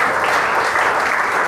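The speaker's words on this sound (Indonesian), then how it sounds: "Beri tepuk tangan kemuliaan bagi Tuhan." A congregation claps for God during a church sermon, a steady, dense wash of hands that carries loudly from start to end without any voice over it.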